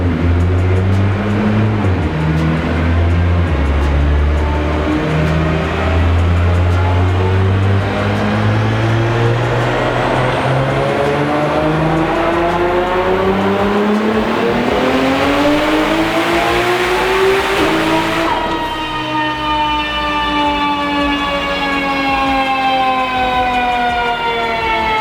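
Nissan R35 GT-R engine on a dyno running boosted, a sustained loud rev that climbs steadily in pitch over many seconds, with a whining turbo note on top, then a sudden lift-off and a falling note as the run ends.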